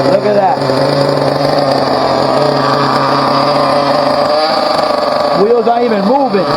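A Team Associated MGT 4.6 nitro RC truck engine idling during break-in, a buzzy, high-pitched steady drone close up, with a person talking over it in the opening and closing seconds.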